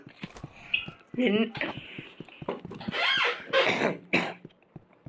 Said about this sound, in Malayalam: എനിക്ക് വീസിങ് ആണ്, ചുമ അതൊക്കെയാണ്